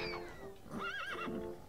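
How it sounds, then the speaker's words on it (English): A horse in the video game Lego Island 2 gives a single clear, wavering neigh over quiet game background sound. "just going to throw us a horse"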